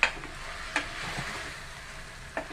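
Masala frying in oil in a pan while being stirred, a soft steady sizzle with a few sharper scrapes of the spoon near the start, middle and end.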